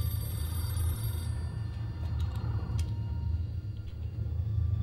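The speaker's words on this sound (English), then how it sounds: "What am I supposed to do with a ringing phone?" A telephone rings in a scene from the Doctor Who episode The Empty Child, a faint bell tone over a heavy low rumble that fades after about a second, with no talk.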